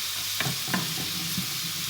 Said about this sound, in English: We'll go in with it while our onion is cooking down.